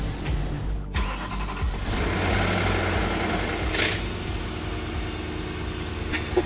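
Engine of a newly bought project vehicle cranked and fired, a loud burst of starter and ignition followed by a rough, rumbling idle that holds steady at close range, with a couple of sharp clicks and knocks along the way.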